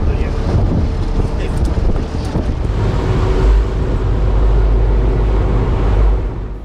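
Strong wind buffets a fishing boat about 40 km offshore during jigging, with a loud roaring rush of wind and waves crashing against the hull, dense and continuous throughout.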